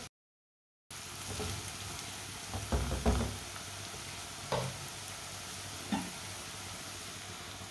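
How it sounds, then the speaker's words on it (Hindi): Garlic and ginger sizzle in a pan with a steady, moderate hiss, broken by a few soft knocks and clatters of stirring. "1 मिनट के लिए मैंने लहसुन और अदरक को भी पका लिया है।"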